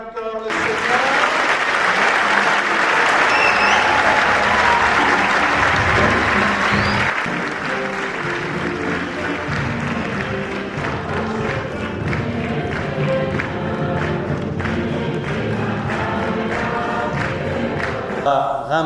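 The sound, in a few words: congregation applauding at a Mass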